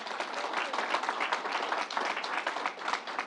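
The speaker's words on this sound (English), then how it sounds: "Let's give Fannie a round of applause, and Marie." A steady round of applause fills a public announcement event in Syracuse, New York, as many people clap together, even and sustained from start to finish without any speech on top.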